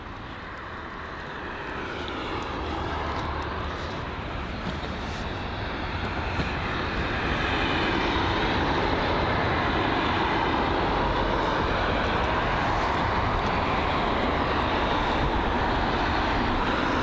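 A British Airways Airbus A320 takes off at London Heathrow. Its engines rise into a loud, broad, continuous roar that swells over the first several seconds and then holds steady and powerful close by, with no voices.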